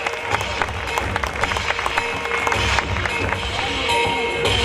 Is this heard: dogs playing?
no